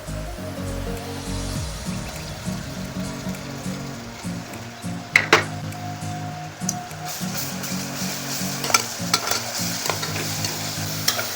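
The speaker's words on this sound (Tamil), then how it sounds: "இப்போ இந்த ஸ்டேஜில் வந்து அரைச்சி வச்சுருக்கிற இஞ்சி பூண்டு பேஸ்ட்டை ஆட் பண்ணிக்கலாம்." Ginger garlic paste sizzling with onions in a pan for seeraga samba vegetable pulao, a loud steady fry with frequent scraping stirs and sharp clinks of the spoon against the pan.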